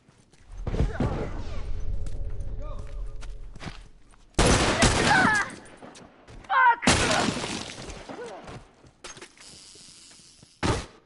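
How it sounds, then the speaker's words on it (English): Bursts of gunfire from several guns in a multiplayer match of The Last of Us, loud close volleys in separate clusters with sharp cracking impacts, broken by quieter stretches where a voice talks. "Got hit by 3 different guns and a bomb thrown at me."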